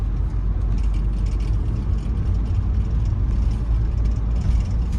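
A car passes on the right on a small-town street while driving, heard as a steady loud road and engine rumble from inside the vehicle, with no distinct pass-by peak standing out.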